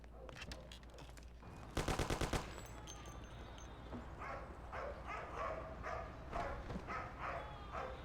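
Gunfire in the Mafia video game: a dense burst of rapid shots around the two-second mark, followed by scattered, lighter pops and busy background game sound.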